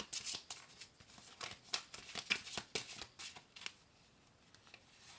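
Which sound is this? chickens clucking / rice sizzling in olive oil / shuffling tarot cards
shuffling tarot cards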